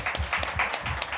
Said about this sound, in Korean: 박수 쳐드립니다